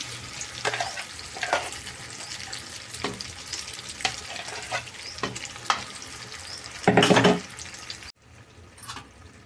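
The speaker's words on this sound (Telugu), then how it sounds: "మళ్ళీ ఇంకోసారి నేను స్టవ్ వెలిగించాను ఇదే తాలింపులోనే ఇలా ఒక ఐదు నిమిషాలు ఉంచి" Tomato chutney sizzles steadily in hot tempering oil on a stove, with intermittent scraping stir strokes and a louder burst of frying near the end before the sound drops sharply away.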